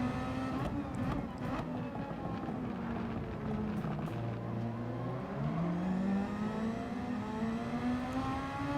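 Race cars lapping the Interlagos circuit in Gran Turismo 7, a steady, continuous engine drone with shifting pitch as the cars run close together, a brief lower tone midway, and no talk.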